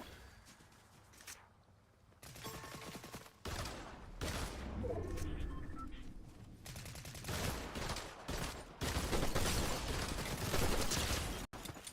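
Video game gunfire sounds in dense rapid bursts and fusillades for most of the span, loud and continuous, with a quieter stretch near the start.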